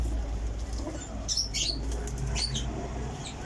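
Kasuri Teddy and Sialkoti pigeons take flight, their wings flapping in a few quick fluttering bursts over a steady outdoor background hum, with no talking.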